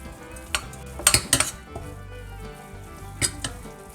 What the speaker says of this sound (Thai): จากนั้นก็จะเอาพริกมาผัดก่อนค่ะ